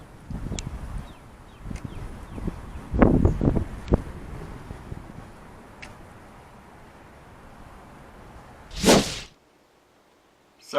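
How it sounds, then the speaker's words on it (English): Gusty wind buffets an outdoor camera microphone, rumbling low in irregular bursts with a few sharp thumps, then one loud whooshing blast near the end before the noise drops almost to silence. "Sorry about all the wind noise in those last few clips"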